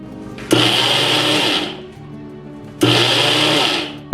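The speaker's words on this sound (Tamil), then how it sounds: "இந்த மிக்சியில் எல்லாத்தையும் கிரைண்டரில் போட்டு தான் நான் இதை அரைச்செடுக்க போகிறேன்" A mixer grinder runs in two loud bursts, grinding rice with six cardamom pods; each whirring burst lasts about a second, with a brief gap between them.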